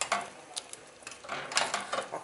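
A spoon stirring salted caramel syrup ingredients in a cooking pot, giving soft scraping swishes and faint metallic clinks at an uneven pace, close and moderately quiet.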